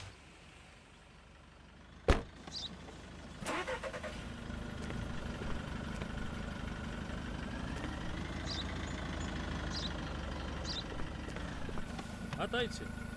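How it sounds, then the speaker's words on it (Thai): Truck engine in the game Contraband Police starts with a sharp thump and then idles with a steady low rumble that rises slightly in revs midway, with speech heard over it. "รถบรรทุกนะครับ"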